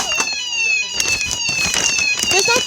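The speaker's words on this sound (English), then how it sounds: "Fire alarm. It's not real." A fire alarm going off inside a TK Maxx store sounds as a continuous, piercing electronic tone with bright layered harmonics, loud and close. Voices and bustle from people in the shop run underneath.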